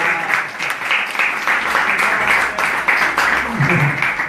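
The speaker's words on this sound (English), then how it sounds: "Give him a round of applause" Audience applause for little Oscar, a small boy in tilak, at a Sunday Soul Talk gathering: steady dense clapping from a crowd, loud and sustained throughout with brief voices rising near the end.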